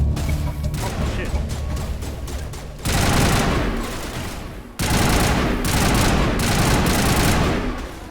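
Pistol gunfire in the Mass Effect video game, dense rapid bursts of shots that stop and restart in loud blocks, with battle noise throughout.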